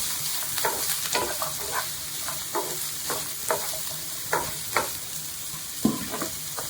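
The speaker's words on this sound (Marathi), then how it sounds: "ते मातशें बरें भाजून घेवपाक जाय. ऑनियन मातशें गोल्डन सो जावपाक जाय." Onion and a chili frying in a pan for a mushroom xacuti, a constant close sizzle broken by repeated scraping stirs of a spatula at an uneven pace.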